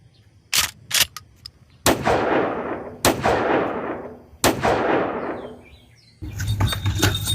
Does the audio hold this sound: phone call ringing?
no